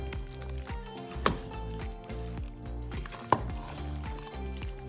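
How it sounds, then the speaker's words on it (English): A spoon stirs Sicilian-style Italian beef stew in a cooking pot, giving soft scraping and two sharp clinks against the pot over a faint steady background hum. "So you wanna make sure you give it a nice stir again as well."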